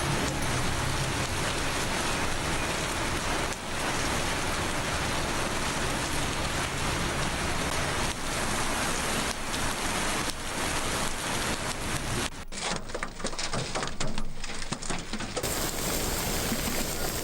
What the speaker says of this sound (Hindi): लाहौर में बादल खुलकर बरसे।